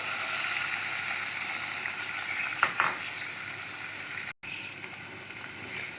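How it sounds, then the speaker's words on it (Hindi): Chicken frying in a spoonful of ghee in a pan, a quiet steady sizzle with a couple of brief stirring scrapes partway through. "इसी पैन में हम दोबारा 1 चम्मच घी लेंगे और इसमें चिकन फ्राई करेंगे।"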